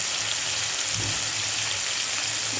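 Onion sautéing in a pan with salt, a steady close hiss of frying that holds evenly throughout with no voices.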